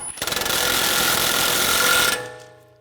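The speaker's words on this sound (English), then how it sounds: "Tighten the axle nut." An impact wrench tightens the axle nut on a 2009-2013 BMW 328i xDrive front CV axle, a loud close burst of rapid hammering that winds up, runs for about two seconds and spins down.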